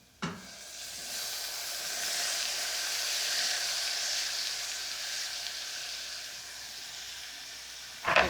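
Tomatoes frying in a pan for a red lentil dhal masala paste, a steady close sizzle and hiss throughout, bracketed by a clatter at the start and end.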